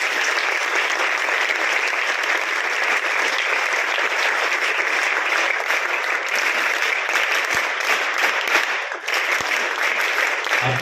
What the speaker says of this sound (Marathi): ज्यांनी ज्यांनी मदत केली त्यांच्यासाठी आपण जोरदार टाळ्या वाजवूया.